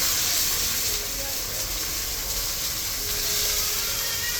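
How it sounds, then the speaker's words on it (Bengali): Rohu fish heads fry in hot oil with a steady, loud, hissing sizzle that stays dense and even throughout, close up and uninterrupted. "মাথাগুলো উল্টে পাল্টায় লাল লাল করে ভেজে নিচ্ছি।"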